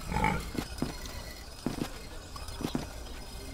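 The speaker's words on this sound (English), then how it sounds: "Those pigs are being fed enough." Pigs in the video game The Dark Eye: Chains of Satinav grunt and oink in short bursts over a steady background hum, with a few soft thuds scattered between the grunts.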